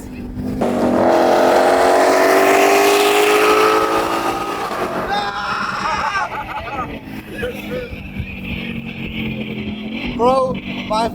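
A supercar engine roars loud and close, climbing in pitch as it accelerates hard, then easing off into a rumbling drone as voices shout and talk over it.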